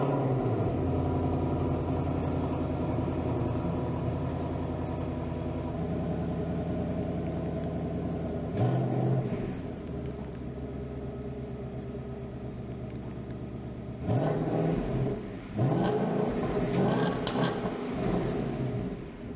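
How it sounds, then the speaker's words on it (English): A 2024 Mustang GT with factory exhaust idles with a deep, steady rumble heard from behind the car, then rises in two brief rev blips before settling back to idle; no talking. "I can actually stand behind the car now and rev it and hear the factory exhaust for myself behind the car"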